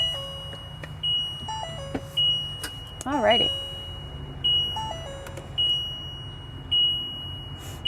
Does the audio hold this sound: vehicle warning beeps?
yes